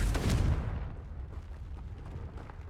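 A Confringo fire-blast spell goes off in Hogwarts Legacy, a deep booming burst up front that swells quickly and then rumbles away over the next couple of seconds, standing alone without voices.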